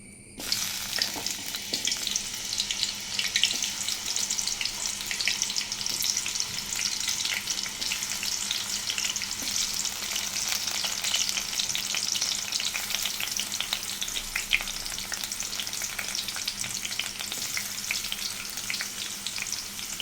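Steady, loud sizzling and crackling of mango sautéing in hot coconut oil in a pan, continuous throughout with light stirring and no talking.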